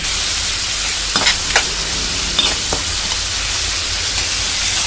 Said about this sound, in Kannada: ಟೊಮೊಟೊ ಸ್ಮ್ಯಾಶ್ ಆಗೋ ತನಕ ಚೆನ್ನಾಗಿ ಫ್ರೈ ಮಾಡ್ಕೊಳ್ಳೋಣ